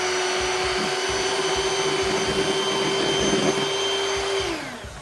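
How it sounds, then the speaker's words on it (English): A hand mixer whirs on low through pumpkin pie batter, a loud close steady drone with faint bumping against the bowl, winding down at the end. "now I'm gonna take my hand mixer and I'm gonna mix everything together on low"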